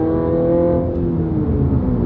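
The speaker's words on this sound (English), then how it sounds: "now I'm driving the Subaru" A Subaru fitted with an FA24 engine accelerating, a loud, steady engine drone heard from inside the car, its pitch climbing evenly as it pulls.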